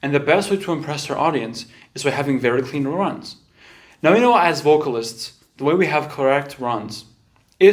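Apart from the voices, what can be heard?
No everyday noise stands out behind the speech.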